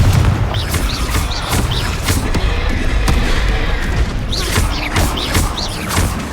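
Incendio and Confringo spells going off in rapid succession during a Hogwarts Legacy battle, a dense stream of sharp cracks, whooshes and booming blasts layered over continuous combat noise, loud and busy throughout.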